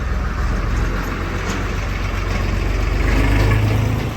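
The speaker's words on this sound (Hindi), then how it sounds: "ट्रैक्टर आएगा तो आवाज नहीं कटेगा बाबू।" A tractor engine rumbles past outdoors with a steady, loud low-pitched drone that swells slightly toward the end, continuous throughout with no talk.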